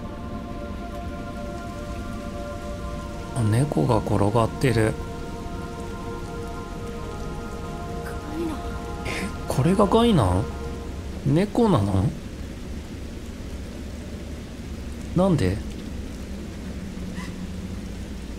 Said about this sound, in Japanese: 雨が降ってるよ。